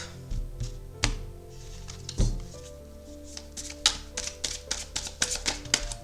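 A tarot deck is cut and handled up close, producing a run of light, irregular taps and soft card slaps, quicker toward the end, with no talking.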